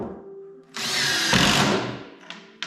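A power drill drives a screw into a wooden joint on a cat house build. The motor whirs in one sustained burst up close, followed by a couple of brief trigger blips.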